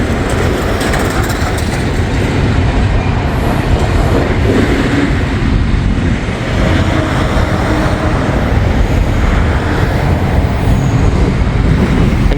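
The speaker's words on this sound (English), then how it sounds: "Nice, we get this NS train" A long Norfolk Southern freight train rumbles past close by, a loud continuous roar of wheels and railcars with faint rhythmic clatter throughout.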